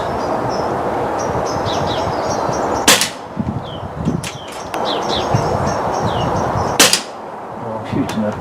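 Two sharp, loud shots from a Retay T20 air rifle fitted with a Robert Lane regulator, spaced a few seconds apart outdoors, with birds chirping and a few small clicks in between.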